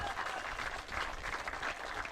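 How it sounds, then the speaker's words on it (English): Sustained applause from an audience at a school rowing regatta medal ceremony, moderately quiet and continuous, a fairly distant wash of clapping. "big round of applause please for our bronze medal winners"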